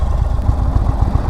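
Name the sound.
Indian Chief Dark Horse motorcycle engine running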